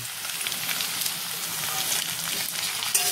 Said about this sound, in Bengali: আলুটা ভাজা ভাজা হয়ে এসছে